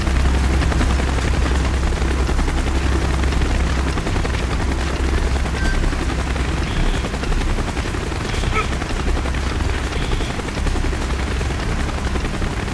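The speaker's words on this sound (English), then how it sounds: "Got a chopper coming. Get your head down." Helicopter rotor noise with bursts of machine gun fire in the Call of Duty: Black Ops video game, a dense, loud and steady roar through the whole scene, with the gunfire buried in the mix.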